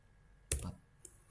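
A few isolated keystrokes on a computer keyboard, close and quiet, with short crisp clicks separated by silence.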